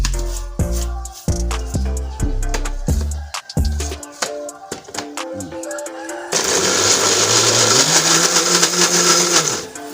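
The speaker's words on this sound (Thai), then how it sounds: "เอาน้ำใส่ไปนิดนึงก็ปั่น" An electric blender pulsing curry ingredients with a little water for a Thai sour curry, a series of short loud whirring bursts followed by one long, steady high-pitched blending run.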